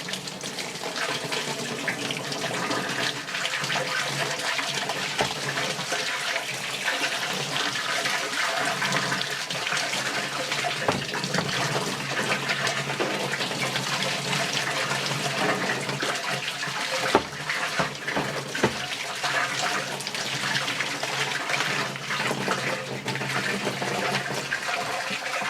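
Water pours steadily over an Osight C red dot sight during a torture test, a continuous close splashing and running stream that lasts the whole stretch with no talking.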